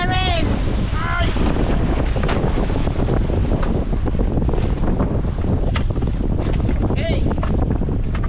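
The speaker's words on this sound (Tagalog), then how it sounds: "Grabing alon." Strong sea waves surge around a small fishing boat heading out to set its nets. A constant roar of wind and water fills the scene, with brief voices calling out near the start and later.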